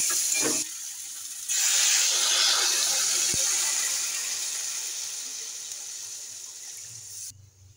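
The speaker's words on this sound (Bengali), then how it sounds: "এবার আমি দেবো জল।" Water poured into a hot pan of spiced curry base cooked with turmeric and chilli powder, giving a loud hissing gush that fades into a steady simmering sizzle, alone without talk.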